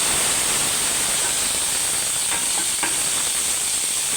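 Dried chili and curry leaves fry in hot oil for a beetroot and shallot curry, giving a steady, close sizzling hiss with a few faint stirring taps and no speech.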